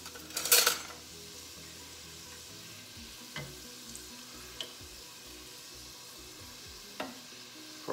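Hungarian forgácsfánk dough fries in hot oil with a steady soft sizzle. A loud burst of crackling comes at the start, and occasional light clinks of utensils against the pan follow, with no talk.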